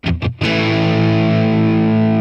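A few picked electric guitar notes on the front pickup ring out through a Hotone Ampero II JCM 800 amp simulation with no drive, then a sustained chord rings on with a clean amplified tone, fairly loud and alone.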